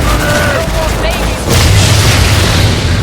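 Airstrike explosions in the video game Evolve, a loud booming burst that swells midway and rumbles on, heard under someone talking.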